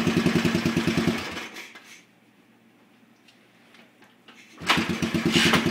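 1978 Yamaha 500 single-cylinder thumper motorcycle cold starting, a close, loud pulsing idle that cuts out into near silence, then fires up again with a rapid thudding single-cylinder beat.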